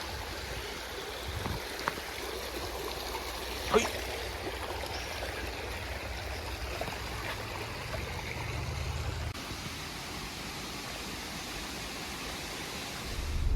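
Water rushes steadily from a stream and nearby waterfalls in the Grand Canyon of the East, a broadband wash that holds constant for the whole stretch, with a low rumble partway through and a faint voice in the background.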